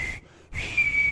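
A man whistles poorly on a country music radio program: a thin, wavering tone breaks off briefly, then returns as a longer, slightly steadier note, heard alone without talk.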